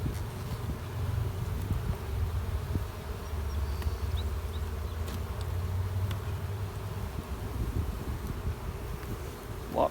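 Honey bees buzz steadily in an open hive during spring management, a continuous close, soft droning hum without talk.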